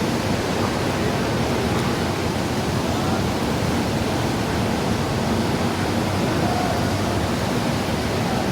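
Water crashing and churning in the wake behind a ship, a loud, continuous broadband roar that holds steady without breaks or voices.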